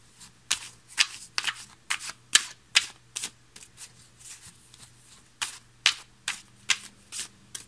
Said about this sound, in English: now I'm gonna cut the deck